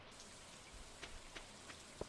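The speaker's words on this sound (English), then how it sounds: "Okay, so today's raining" Rain falling in the Stardew Valley video game, a soft steady patter of drops with a few slightly louder isolated taps, faint and alone without talk.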